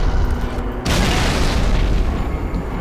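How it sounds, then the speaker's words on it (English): Grenades held by Grunts explode in Halo: Reach, a loud deep boom swelling into a sustained rumbling blast that fills the scene. "They're blowing up in their hands."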